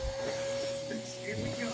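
A barber's handheld blower clears hair clippings during a fade haircut, producing a steady, fairly quiet whooshing hum with a constant tonal whine throughout.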